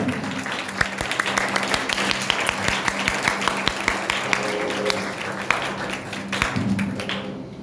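A church congregation at a Hindi-language sermon claps in praise, with irregular sharp hand claps over a steady wash of applause, fading out at the very end.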